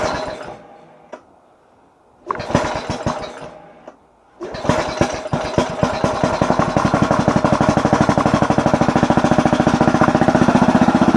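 A 1998 Yamaha Grizzly 600 ATV with a swapped engine cranks in two short bursts, then catches on its first start and settles into a loud, rapid, steady running rattle.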